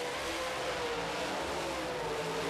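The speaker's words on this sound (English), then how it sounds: "McRae hits the accelerator and keeps on going" Modified stock cars race through a heat on an oval track, several engines roaring together at high revs in a dense, sustained, loud blend with no pauses.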